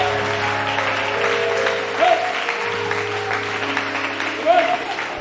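A church congregation applauds during a sermon on consecration. Steady clapping runs throughout, with brief vocal swells, over a sustained low instrumental tone.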